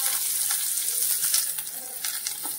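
Onion dropped into hot oil with a dried red chilli, hissing in a dense, continuous sizzle heard up close with faint crackles and light stirring, no talking.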